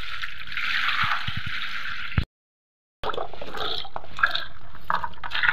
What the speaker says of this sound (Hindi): हम पानी से इसको अच्छे से धो लेंगे